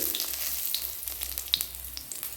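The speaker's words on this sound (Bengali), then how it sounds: "এবার আমি দিয়ে দিচ্ছি কাস্তুরি মেথি" Kasuri methi dropped into hot oil with caramelised sugar, giving a close, bright sizzle with scattered crisp pops and a low steady hum beneath.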